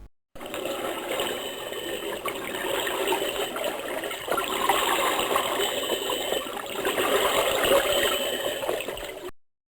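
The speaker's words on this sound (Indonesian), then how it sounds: "Suara orang lagi mandi diikuti suara keran air yang menyala." Cartoon sound effect of a water tap running in a bathroom, a steady, fairly loud rush of flowing water that starts abruptly, continues for about nine seconds on its own, then cuts off.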